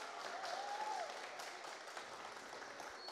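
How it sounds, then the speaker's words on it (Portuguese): A workshop group gives a round of applause for Juliana, a brief, soft patter of clapping from a smallish crowd that stays fairly even and quiet. "Salva de palmas para a Juliana."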